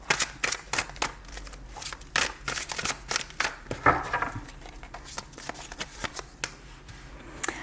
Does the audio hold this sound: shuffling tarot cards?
yes